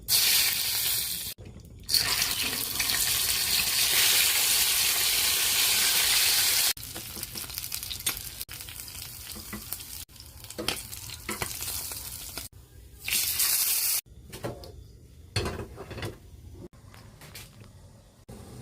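Fish frying in hot oil in a pan with ginger, onion and tomato, producing a loud continuous sizzle and crackle that surges and drops in bursts, with occasional stirring and splashing, no voices over it.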